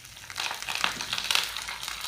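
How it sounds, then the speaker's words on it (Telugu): Tender curry leaves drop into hot oil with already-heated tempering seeds for a ponnaganti greens fry, giving a bright, crackling sizzle that swells and keeps spitting up close, with no talking. "2 రెబ్బల కరివేపాకు వేద్దాం,"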